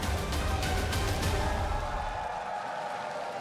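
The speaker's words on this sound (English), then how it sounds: "The crowd is definitely not going to be tired of making noise after this." Esports arena crowd at a League of Legends Worlds 2016 EU regional qualifier, Fnatic vs UOL, applauding and cheering as a loud, dense roar with clapping bursts early on, easing somewhat toward the end.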